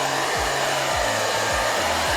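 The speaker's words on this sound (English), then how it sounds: "it sounds like a normal hairdryer just with some lights on it" Steady, loud whooshing roar of a normal hairdryer fitted with lights blowing air, with a low motor hum and a few falling pitch sweeps, running continuously throughout.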